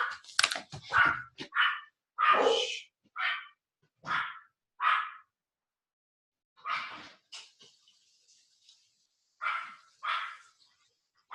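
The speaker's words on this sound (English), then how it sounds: "I'm sorry, my dogs are going nuts" Several dogs bark excitedly at a doorbell indoors, loud close bursts of yapping that come in quick clusters, then pause and start again, with light typing in between.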